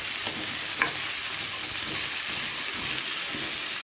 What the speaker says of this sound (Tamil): உப்பு சேர்த்துட்டு நல்லா கலந்து விட்டாச்சு